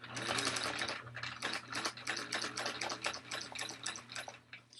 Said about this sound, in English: lower my presser foot, and then continue to stitch over my strap.